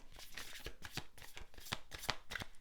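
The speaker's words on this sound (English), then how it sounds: "Okay, one more shuffle." A deck of cards is shuffled up close, a rapid riffling flutter of snapping cards lasting a couple of seconds, with no voices.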